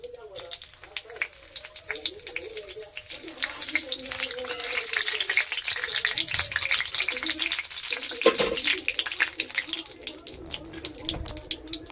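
Bay leaves and dried chillies tempering in hot oil in a pan, a continuous hiss and crackle of frying under someone speaking.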